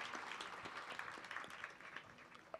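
Audience applause for the Somaiya Trust family at a Gyan Yagna session, a steady wash of many hands clapping throughout, fairly quiet and distant-sounding in a hall, with no talking over it.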